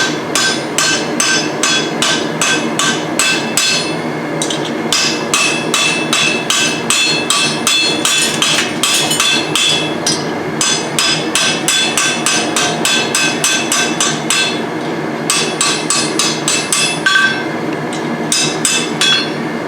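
Steady hammer blows peen a rivet on blacksmith tongs at an anvil, struck in quick even runs of ringing metallic hits with brief pauses between bursts, loud and close.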